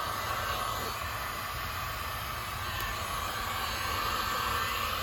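A heat gun blows a steady, loud, hissing roar without a break while warming a plastic Jeep bumper end cap, with no voices over it.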